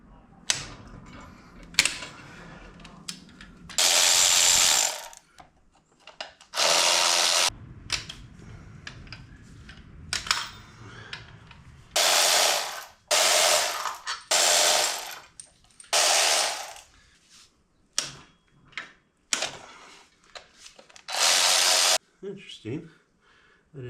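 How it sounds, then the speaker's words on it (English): Ratchet or power tool removing the bolts that hold a VW EuroVan VR6 24v transaxle case together, in repeated loud whirring bursts of a few seconds each separated by quiet pauses, with occasional clicks and metal clinks. "Let's keep working on our bolts that are connecting the case together"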